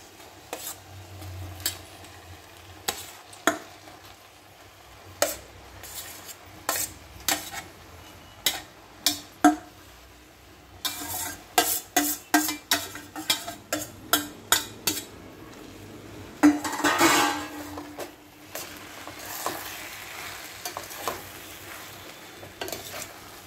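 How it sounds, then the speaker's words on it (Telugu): Cooked brown rice stirred in a pan with beetroot, a spoon scraping and tapping the pan in irregular clicks, with a faint sizzle underneath. "ఇలా వండి పెట్టుకున్న రైస్ వేసుకొని కలుపుకోవాలి"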